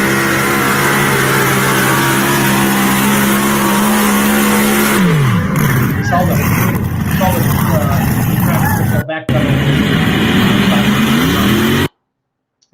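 Pulling tractor engine roars loud and steady through a run, its drone climbing and then dropping in pitch as it strains, with crowd noise and talk mixed underneath before it cuts off near the end.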